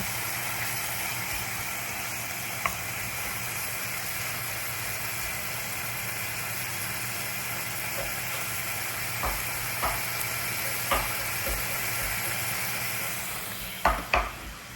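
Steady sizzling of pork belly frying in a pan, a continuous crackling hiss with a few scraping stirs near the end.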